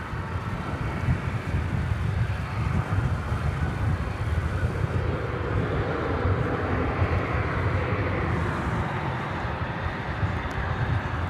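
An Airbus A319 airliner at DFW airport gives a constant low engine rumble mixed with wind buffeting on the microphone, steady throughout at moderate distance with no talking.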